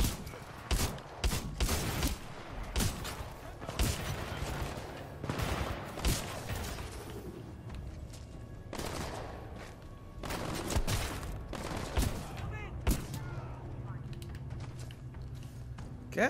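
Shotgun blasts in the first-person shooter Titanfall 2, repeated heavy booming shots in irregular bursts amid combat noise, with someone talking over parts of the action.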